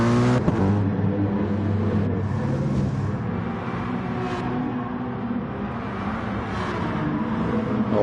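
Race cars pile out of the pits at Suzuka in a sim racing game, engines droning and revving close by in a steady, loud layered roar with rising whirs as cars pull away.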